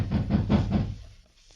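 Several firm knocks on a private office door, four evenly spaced raps close by, followed by quiet.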